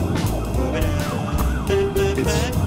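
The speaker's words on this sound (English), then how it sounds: "there goes two police cars on the way" Two police cars pass with sirens wailing, the rising and falling tones loud and close over road noise.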